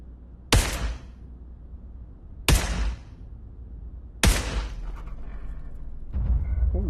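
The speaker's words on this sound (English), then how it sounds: "now let's try shooting these other ones at 100" Three loud, sharp gunshots from a WW2-era rifle on a virtual shooting range in Pavlov VR, spaced about two seconds apart, each with a ringing decay, followed by a fainter rattle of handling; no talking.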